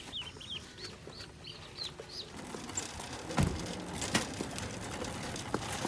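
Chickens clucking and softly calling in a store's live poultry area at Tractor Supply, a few brief chirps over a steady low room hum, with thumps and rustles nearby.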